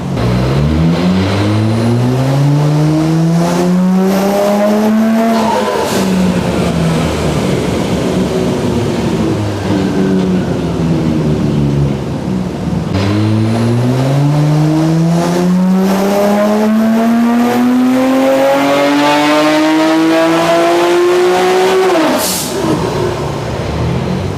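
A Nissan Skyline R34 GT-R, newly warmed clutch, revs hard on a dyno in two long sweeping pulls, the engine pitch climbing loudly each time before dropping off sharply, with no talking.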